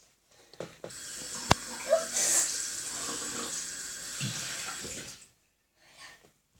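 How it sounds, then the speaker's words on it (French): A kitchen tap runs steadily for about four seconds as hands are wetted before shaping sugar paste for a snowman decoration, then cuts off, leaving a faint trickle and quiet. "On vient mouiller nos mains."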